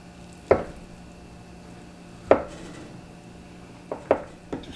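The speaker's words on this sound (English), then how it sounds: "We're just dicing them." Knife dicing ingredients for Spam and shrimp fried rice on a cutting board: a few separate sharp chops at uneven intervals, close and clear, over a quiet background.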